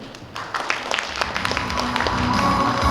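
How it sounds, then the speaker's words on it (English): Applause from the audience at a solar and wind energy expo in Vietnam: scattered individual claps that build into steady clapping from a moderate crowd over a background hum. "please begin a big applause for all your presence for our event today again"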